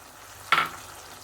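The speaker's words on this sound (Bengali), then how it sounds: "এটা দিয়ে আমি সুন্দর করে একটু নাড়া দেব" A single short stir of boiled potato pieces into sizzling masala fried in oil for chickpea ghugni makes a brief scraping swish over a faint frying hiss.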